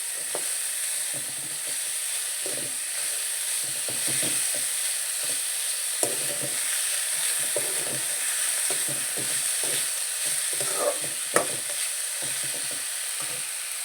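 Ingredients sizzle and fry in hot oil in a pan for vaggarane avalakki (poha), a steady close crackling hiss with intermittent scraping stirs and small clicks of a utensil.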